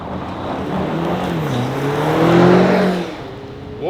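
A BMW XM SUV's engine drones steadily as it drives on the road, its pitch rising and swelling loudest around the middle before easing back, with tyre and wind roar underneath.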